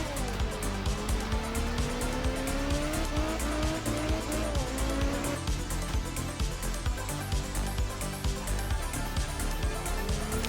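Race car in a racing video game braking hard, tires squealing in long sliding pitches over a steady loud engine roar.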